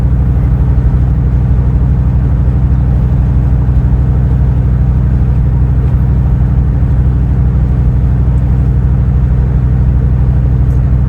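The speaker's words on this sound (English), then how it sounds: "it gives me a chance to cruise and see the changes I made to the truck and see how they working" Modified truck engine cruising along Fort Street, a loud, steady low rumble with an even droning tone and no talking over it.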